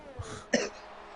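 A short throat-clearing cough with a faint lead-in grunt, close to the microphone and fairly soft, during a sim racing commentary broadcast.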